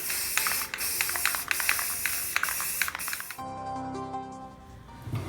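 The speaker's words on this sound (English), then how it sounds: "So first I'm gonna do my 2-in-1 filler primer on both pieces." Aerosol can of 2-in-1 filler primer spraying onto arrowhead kit pieces in steady hissing bursts of about half a second, close and loud, then stopping with a quieter tonal hum after.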